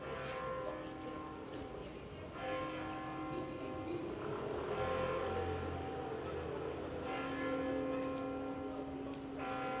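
Church bell chiming at 11 a.m. in central Croydon, sustained ringing tones spread over a steady background of street traffic and rain-like hiss, moderately distant and fairly quiet.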